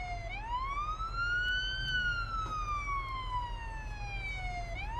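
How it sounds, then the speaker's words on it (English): A police siren in Police Simulator wails steadily, its pitch gliding up and down in long sweeps, fairly quiet and continuous with no talking. "Is the sirens a little quieter?"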